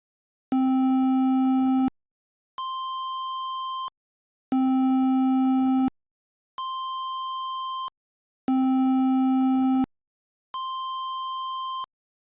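Two electronic tones alternate in three rounds: a lower buzzy beep, then a higher pure beep, each about a second and a half, separated by brief silences.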